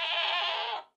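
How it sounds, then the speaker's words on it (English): A screaming goat in Minecraft lets out a single loud, strained, shrill bleat that holds steady for nearly a second and then cuts off abruptly into silence. "This is not normal goat sounds."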